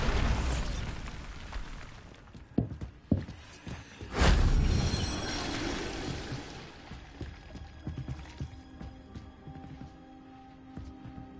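A Bombarda blast spell going off in Hogwarts Legacy, one sharp loud broadband burst followed by a rumbling decay, with smaller pops and thuds before and after against game ambience.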